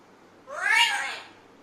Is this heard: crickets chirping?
no